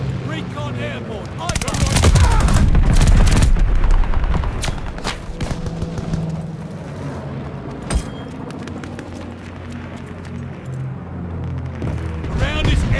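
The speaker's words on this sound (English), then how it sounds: "Friendly bombing run on the way." Heavy explosions and gunfire in Call of Duty: Vanguard build into a dense, loud barrage, then thin out to scattered bursts and a sharp blast. Game voices talk over the din.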